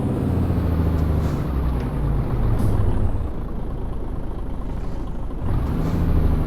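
A heavy truck engine in Euro Truck Simulator 2 rumbles loud and steady, a deep continuous drone that swells and eases slightly as the load shifts, with no talking over it.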